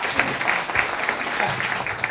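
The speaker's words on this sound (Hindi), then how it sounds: "चलो, सर के लिए जोरदार ताली हो गई" An indoor audience at a meeting gives a short round of applause, with dense, steady clapping close by.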